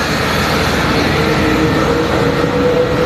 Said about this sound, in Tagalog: Wow, ang ingay na ang sasakyan.